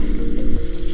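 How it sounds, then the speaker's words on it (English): A sailboat moving between islands at sea gives a loud, rushing blend of wind and water with a low rumbling hum, close and continuous for a brief moment, with no voices. "So we're sailing between islands right now."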